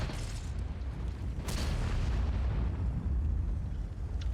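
A tank cannon fires once in World of Tanks, a heavy boom over a steady, loud engine rumble.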